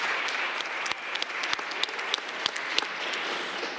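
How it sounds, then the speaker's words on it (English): A room at a Cleveland City Council meeting gives a steady round of applause, many hands clapping together, evenly loud throughout, with a few sharper individual claps standing out. "If we could give her a round of applause."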